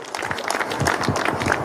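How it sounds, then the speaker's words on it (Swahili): Applause greets a Kakamega County Assembly member at a Nairobi senator's meet-the-people gathering in Seattle, a short burst of close clapping from a small group with some voices mixed in. "Wapi makofi MC?"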